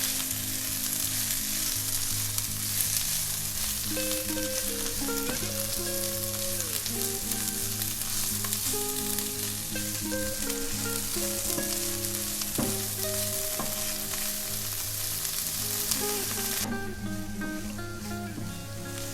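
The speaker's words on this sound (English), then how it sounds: "Now just add in all your vegetables, not one by one, just all together, and keep stirring." Mixed vegetables stir-fried with garlic in a pan give a steady, dense sizzle that runs the whole time, with stirring and a tonal musical bed underneath.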